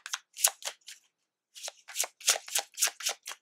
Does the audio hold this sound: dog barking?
no